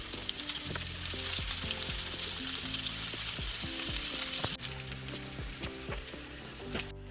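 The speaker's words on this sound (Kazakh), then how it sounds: "қыздырып, пиязымызды қуырып аламыз." Sliced onions fry in hot oil in a pan, a steady close sizzle with crackling pops and the occasional clink of stirring, continuing without voices.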